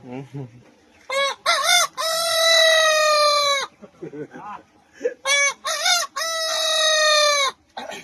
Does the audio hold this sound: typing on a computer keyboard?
no